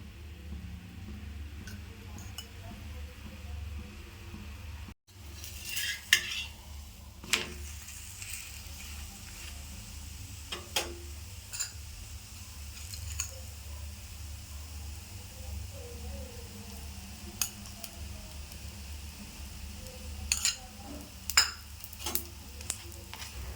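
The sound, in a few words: chapati frying in oil on a pan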